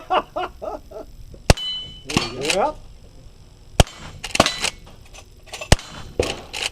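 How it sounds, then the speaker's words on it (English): Gunfire at an organised cowboy shooting match: about five sharp, loud shots spaced a second or so apart, each followed by ringing metallic clangs as steel targets are hit, with people talking between the shots. "Commence the firing."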